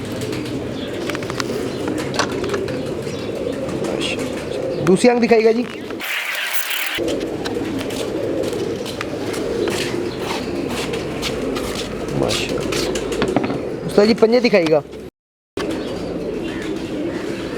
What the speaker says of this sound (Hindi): नक्शे वाला कबूतर जो है ये वो ब्रीड है जी